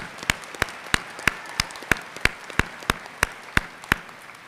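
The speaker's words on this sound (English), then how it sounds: "I think that's worth applause." Clapping at a college graduation ceremony comes as a row of evenly spaced, distinct claps, about a dozen in a steady quick rhythm, fairly close and clear over a quiet hall.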